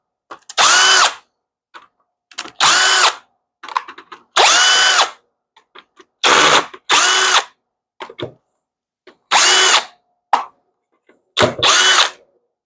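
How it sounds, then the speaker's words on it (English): A Milwaukee M12 compact cordless drill backs out small M4 or M6 bolts in short repeated bursts of high-pitched whirring, about eight loud runs separated by silences and faint ratchet clicks, with no talk. "we did a video on this drill like 5 years ago"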